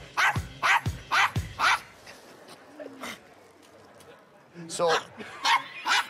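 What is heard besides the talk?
Yorkshire Terrier dog barking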